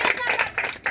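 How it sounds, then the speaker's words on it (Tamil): A group of children claps together at a church holiday Bible school gathering, a quick uneven burst of close, lively applause with voices mixed in. "அப்பா அம்மாவுக்கு நல்லா கைத்தட்டல் கொடுங்க"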